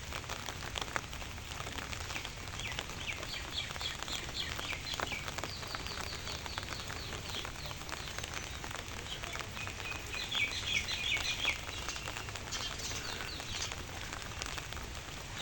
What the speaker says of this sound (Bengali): সারা রাত বৃষ্টি হচ্ছে বৃষ্টি হয়েছে এবং এখনও হচ্ছে